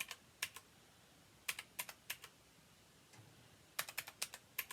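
Quick bursts of computer keyboard typing, clicky keystrokes in clusters separated by short pauses, close and fairly quiet.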